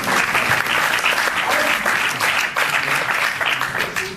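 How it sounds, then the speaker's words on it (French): Loud, dense applause from a cinema audience at a film premiere, sustained for the whole stretch with no pause. "on peut m'applaudir très fort."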